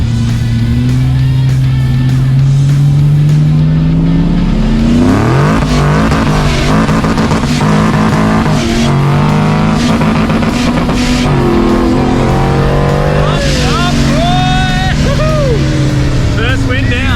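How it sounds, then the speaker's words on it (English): Race cars do roll racing at Supernats Winton, the engines rising and falling loud and close as they accelerate, with tyres spinning hard. Voices talk over the noise throughout. "Pretty sure he was baking tyres"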